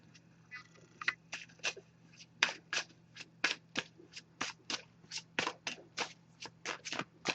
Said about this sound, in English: Just going to give this a few shuffles first.